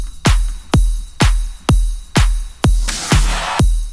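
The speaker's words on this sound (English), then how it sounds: "the drums sound like this on their own" Electronic drums with shaker loop, ride, clap and kick play alone in a steady four-on-the-floor pattern, with about eight punchy kicks and brighter hits layered on top.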